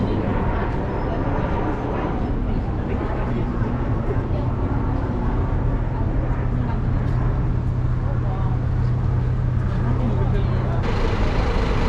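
London street traffic with buses and cars gives a continuous, dense outdoor roar with a steady low engine hum, passing vehicles and a faint overhead drone, loud and unbroken throughout.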